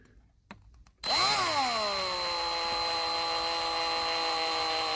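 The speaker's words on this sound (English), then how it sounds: "I've got a 1mm drill bit here, and what I've been doing is slowly drilling out these holes where the glue is" A small 1mm drill bit spins up and bores out glue-filled holes in a circuit board from a Marshall JMP 50 MK2 amplifier, a steady high whine starting after a brief quiet moment and holding loud and constant.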